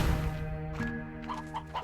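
A few short clucks from video game chickens in a coop in Slime Rancher 2, fairly close, with a steady tonal hum underneath.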